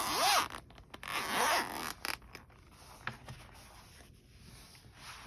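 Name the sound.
zipper opening on a crochet hook set case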